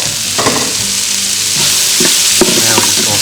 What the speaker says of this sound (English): Now we're just going to saute these off.